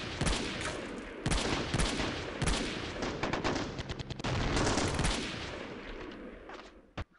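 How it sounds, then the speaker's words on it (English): Rapid, overlapping gunfire with crackling bursts fills a loud battle in a Chechnya 2005 video game, with sniper shots among the machine-gun fire and no voices. "Serbian snipers are engaging."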